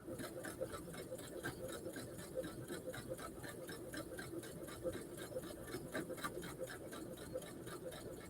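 A sewing machine stitching a quilt runs at a steady fast rhythmic clatter, close and even, continuing without pause for the whole stretch.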